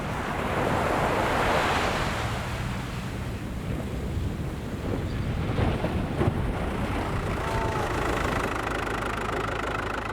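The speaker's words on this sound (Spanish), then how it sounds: "el fuerte oleaje amenaza con hacer volcar las pequeñas embarcaciones" Strong ocean swell breaks along the Moroccan coast near small fishing boats, a loud continuous roar of surf and wash with heavy wind buffeting the microphone throughout.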